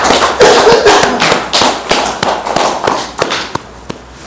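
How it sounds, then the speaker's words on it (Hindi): A seminar audience in Sunder Nagar, Mandi, claps together in a loud, steady rhythm, with sharp evenly spaced hand slaps fading slightly toward the end. "एक बार जोरदार तालियां अपने लिए बजाओ"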